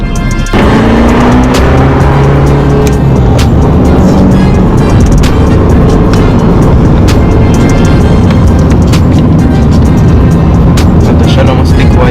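An Abarth 500 Esse Esse hatchback drives past with a loud, sustained engine roar that swells and holds, with buffeting wind and a voice speaking over it.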